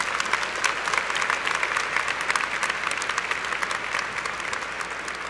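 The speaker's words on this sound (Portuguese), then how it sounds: "Se você crê, dá uma salva de palmas para Jesus Cristo." A church congregation claps together steadily in a dense, loud, continuous round of applause that holds through the whole stretch with no talk over it.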